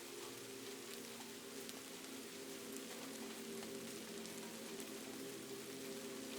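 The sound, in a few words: soft continuous rain at night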